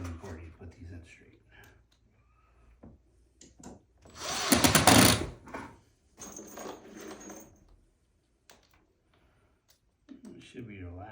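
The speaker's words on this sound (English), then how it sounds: "So grab our handy little screw gun again. Pop our first screw in." A handheld screw gun drives screws into an IKEA desk during assembly, giving a short, loud whirring burst in the middle with quieter clicks and handling noise around it and a voice speaking at the start and end.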